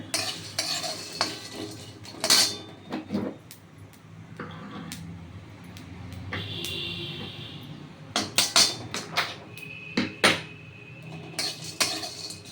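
Whole garam masala spices scraped and stirred in a dry pan with a metal spoon while dry roasting, steady rattling and clinks with a faint sizzle underneath.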